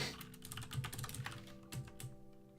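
Close, brisk typing on a computer keyboard, with irregular clusters of key clicks and occasional heavier strikes over a quiet room hum.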